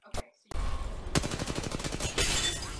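Pistol shots in a multiplayer video game, a sharp burst followed by a rapid run of evenly spaced gunfire and shattering hits, with players talking over it.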